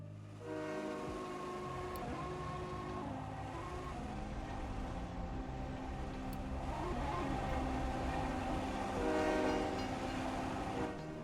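A freight train running in the industrial strategy game Captain of Industry, with steady, continuous mechanical rumble and grinding drone sustained throughout, loud and without speech, with brief horn-like tonal accents.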